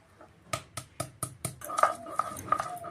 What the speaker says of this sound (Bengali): প্রথমে আমি আদাটুকু বেটে নেব